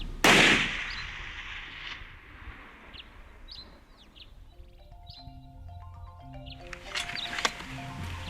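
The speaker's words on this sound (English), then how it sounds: "There we go, shoot." A single hunting rifle shot fired at an animal about 410 yards away on a safari in Tarkastad: one loud, sharp crack near the start, then quiet open-air ambience with faint birdsong.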